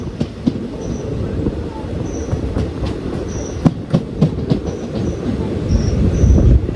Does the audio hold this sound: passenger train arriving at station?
yes